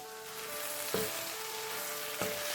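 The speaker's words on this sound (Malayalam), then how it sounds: "കുറച്ച് നേരം നമ്മളിത് ഒന്ന് മിക്സ് ചെയ്തൊന്ന് ഇളക്കി എടുക്കണം. ഉലർത്തിയെടുക്കണം നമുക്ക് നല്ലതുപോലെ ഒന്ന്." Soya chunks with curry leaves stir-frying in a pan, a continuous sizzle broken by two scrapes or knocks of the spoon, close and steady.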